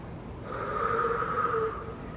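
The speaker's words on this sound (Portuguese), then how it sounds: "É uma respiração curtinha assim, ó." A person demonstrating short, shallow breathing, a single soft breathy exhale with a slightly nasal hiss, close and quiet, with no talking over it.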